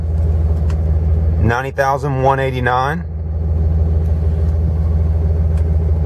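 Steady low diesel idle of a 2007 Dodge Ram 3500 pickup running in neutral after a start, a continuous close rumble with someone talking briefly over it midway.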